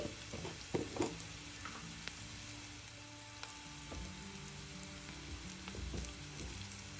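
Ginger garlic paste frying in a pan for a cabbage egg fry, a soft, continuous sizzle close by with small clicks and light utensil taps, no talking.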